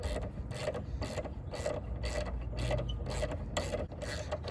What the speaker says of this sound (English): Ratcheting it off.